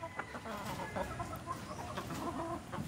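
Gamecocks and chickens in a small backyard coop cluck and call softly, a few birds close by with scattered clucks over low ambient noise.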